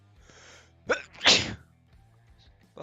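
One person sneezes nearby in a quick two-part burst, a sharp intake and then a loud breathy explosion, with quiet room sound around it.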